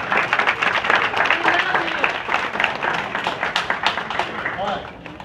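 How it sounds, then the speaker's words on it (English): A middle school audience applauds a young mariachi performer, dense clapping with scattered voices and chatter throughout, loud and close, tapering near the end. "so give her a big round of applause"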